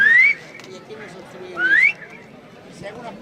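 A sharp rising whistle echoes off the stepped pyramid at Chichen Itza, sounding twice a second and a half apart, each call clear and fairly loud and followed by a quieter answering chirp, with faint crowd murmur in the background.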